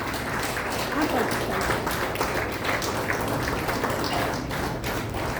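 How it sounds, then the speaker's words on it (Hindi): Steady, dense clapping from the audience at an Arya Samaj Trust vote of thanks, continuing evenly for several seconds. "तालियां इतनी धीरे क्यों?"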